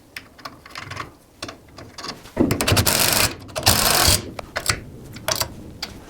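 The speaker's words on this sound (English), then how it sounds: "We're going to go ahead and put these on and get them tightened up." Wrenching up QA1 coilover mounting bolts on an F100 with an S550 rear assembly: scraping, ratcheting metal clicks and rustles, close and moderately loud, with a longer dense burst of grinding mechanical noise midway.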